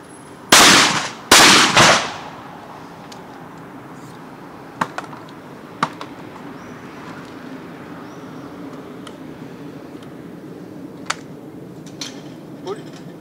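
Verney-Carron Sagittaire Polinox One 12-gauge hunting shotgun firing two loud, close blasts in quick succession, each ringing briefly, followed by scattered sharp clicks of the action over quiet background with some talk.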